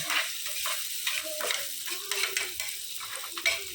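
Green chillies, onions, ginger paste and turmeric frying for chicken curry, a soft steady sizzle with frequent spatula scrapes and stirs against the pan.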